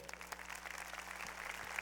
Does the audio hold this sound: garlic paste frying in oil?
no